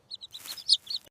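A lost cartoon chick chirps in quick, high-pitched peeps, about eight short bright calls in a rapid irregular run, clear and isolated against a quiet background.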